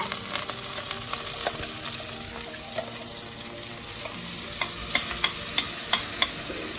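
Ground masala frying in hot oil in a pan for green peas masala, a continuous crackling sizzle with scattered spits and splashes, then a run of sharp clicks of a utensil near the end, close and free of speech.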